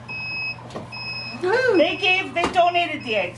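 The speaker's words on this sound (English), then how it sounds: "Wow, the alarm." An egg incubator's alarm goes off after its lid is left open too long: two short, high, evenly spaced beeps, then several people talk over the faint continuing hum.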